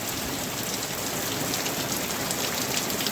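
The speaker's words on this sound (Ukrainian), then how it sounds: "Оце ливануло, бляха. Прям прям реально тако злива." Heavy November downpour pours steadily at a beekeeper's apiary, a dense, constant roar of rain hitting surfaces with no pauses.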